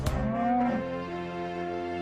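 A single low, drawn-out moo from farm cattle, among them steers awaiting a stock truck, heard close and loud with nothing else over it.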